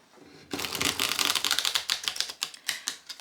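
A tarot card deck is shuffled close up in a quick, crisp run of riffling card flicks that rattle steadily for about three seconds, with no voices.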